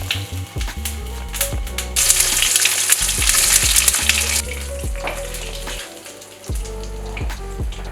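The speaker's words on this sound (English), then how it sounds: "Now we're gonna put the loins in the pan." Baltic sea trout loins searing in a hot pan, a steady loud sizzle and crackle with brief spatters, swelling in the middle and then settling, with occasional clinks of the pan.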